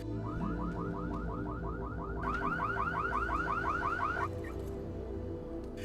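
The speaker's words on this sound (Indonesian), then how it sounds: "tiba-tiba alarm mobilnya berbunyi" A car alarm blares in a fast repeating warble, loud and close, cycling steadily for several seconds before cutting off abruptly near the end.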